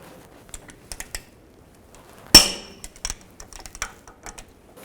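A torque wrench works the rear brake bolts on a 2001-2008 Chevy Trailblazer, giving scattered close metallic ticks and clicks with one louder sharp snap midway, no talk.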